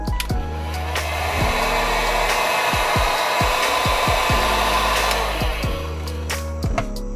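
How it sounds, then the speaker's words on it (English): A heat gun blows a steady loud airflow while foam is pressed onto rocks to give it a leather texture, with a series of sharp clicks and thumps of handling under the continuous hiss. "You got to be careful on the angle of the heat gun"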